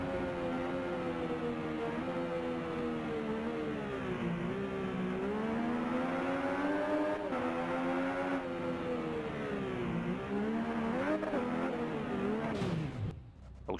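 Superbike engine in the motorcycle racing video game RIDE on PC, a loud, steady high-revving whine that rises and falls through gear changes for the full length and cuts off abruptly near the end.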